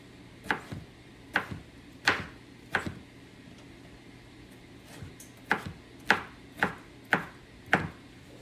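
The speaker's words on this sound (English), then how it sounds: "So now we're gonna get to chopping up some pickles." A knife chops pickles steadily on a cutting board, sharp close thuds in uneven bursts with short pauses between groups.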